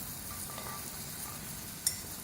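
Nuts, raisins, coconut, pistachios and almonds being roasted in oil with semolina and gram flour in a pan, making a steady, soft, close sizzle of frying with a faint stirring scrape and one brief clink.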